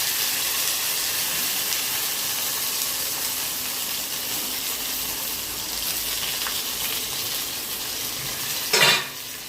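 Stuffed green chillies with curry leaves fry in hot oil for a Gujarati shaak, a constant close sizzle and crackle that swells into a sharp burst near the end, with no talking.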